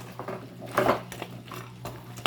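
Chicken curry stirred in a pot, a few scraping and clinking strokes of a utensil against the metal with soft wet movement, close and fairly quiet, with a louder scrape near the start and another at the end.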